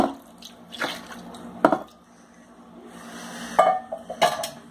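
Tap water splashes intermittently as cloth diapers are rinsed in a sink, with scattered sharp knocks and drips between quieter stretches of running water.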